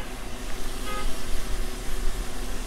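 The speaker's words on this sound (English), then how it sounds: "Actually, a car's coming, I can hear the honking." A car comes down a hill on a Hawaiian street, a moderate engine and tire rumble that swells and ebbs slightly as it approaches, with no talk.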